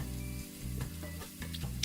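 Boneless chicken crisps in hot fat with a close, continuous sizzle and soft crackle, broken by a few brief stirring or shifting sounds.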